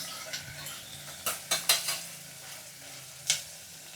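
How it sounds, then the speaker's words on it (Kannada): Tomatoes softening in hot oil in a pan, stirred with a utensil that clanks sharply against the pan several times over a low sizzle, close by. "ಟೊಮೆಟೊ ಹಣ್ಣು ಸಿಪ್ಪೆ ಚೂರು ಬಿಡೋವರೆಗೂ ಮೆತ್ತಗಾಗೋ ತನಕ ಚೆನ್ನಾಗಿ ಇದೇ ಎಣ್ಣೆಯಲ್ಲಿ ಬೇಯಿಸ್ಬೇಕು ಅದನ್ನು"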